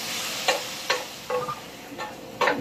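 Onion and sausage sauté in a pan under a steady low sizzle, broken by five sharp, evenly spaced scraping strokes of a utensil stirring nearby, with no talking.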